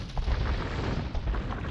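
Cannon fire in Age of Empires II booms as a dense, continuous low rumble of overlapping shots and impacts throughout, loud and without speech.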